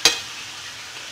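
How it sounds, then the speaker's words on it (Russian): Blini batter frying in a well-heated pan for Maslenitsa. A brief clatter at the start gives way to a steady, soft, close sizzle that continues without any talk. "И сейчас я уже начал обжаривать блины."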